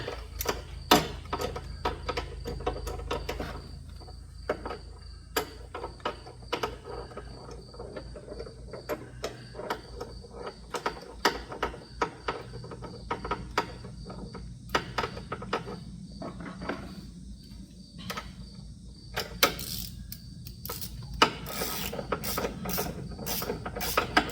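A socket wrench tightens a spark plug in a 2018+ Mustang GT engine bay, giving fast runs of sharp ratcheting clicks with short pauses, close and fairly quiet, with no talking.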